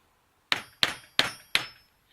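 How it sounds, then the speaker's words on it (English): Four sharp metallic hammer blows ring out one after another at a steady pace on a metal staple remover, each clang leaving a short bright ring. "then smack that down with a hammer."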